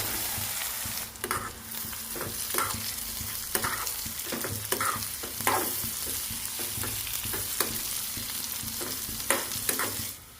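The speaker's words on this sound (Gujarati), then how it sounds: "તો તેલ ગરમ થઈ જાય એટલે હાફ ટીસ્પૂન આપણે રાઈ નાખી દઈશું, તલ નાખી દઈશું, મીઠો લીમડો નાખી દઈશું, લીલા મરચાં અને હવે આપણે ઢોકળી નાખી દઈશું." Mustard seeds, sesame seeds, curry leaves and green chilies crackle in hot oil as dhokli is tossed in, a steady close sizzle broken by repeated sharp spatula scrapes and spits, no voices.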